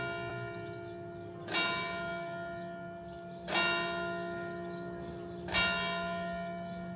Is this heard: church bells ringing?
yes